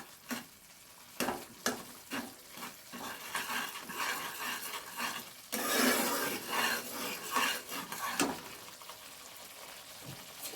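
Potatoes and a few green peas are sautéed in a pan for a vegetarian alur dom, with repeated sharp stirring scrapes over a close sizzle and a louder burst of frying midway.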